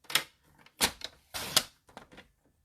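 Paper matte piece for a handmade card cut on a paper trimmer, several sharp close slicing and clacking strokes in an uneven rhythm with quiet gaps between.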